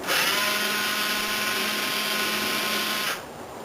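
A power drill with a bit reaming out a hole in wood whirs steadily and loudly for about three seconds, then cuts off abruptly, leaving faint background hum.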